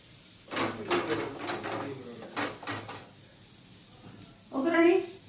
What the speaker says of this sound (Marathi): मला हे एवढे फिश फ्राय करता येईल पटापट